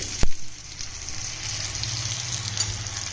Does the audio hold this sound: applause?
no